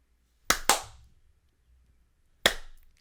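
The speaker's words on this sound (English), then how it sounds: "We have to clap at the same time." Two people clap their hands together in a quiet room, giving three sharp, crisp claps: two slightly out of sync in quick succession, then one more after a pause, each with a short ringing decay.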